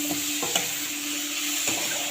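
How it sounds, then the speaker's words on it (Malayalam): Brinjal pieces sautéing in a pan, a steady close sizzle with a few soft scraping stirs of a spoon, no voices. "നന്നായി വഴണ്ട് വരണം."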